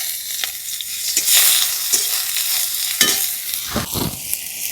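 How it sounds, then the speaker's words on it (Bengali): Chopped garlic hitting hot oil with cloves, peppercorns and bay leaves, a loud close sizzle that swells and crackles, broken by a few utensil clacks and stirring scrapes. "এবার দিয়ে দেবো কুচনো রসুন"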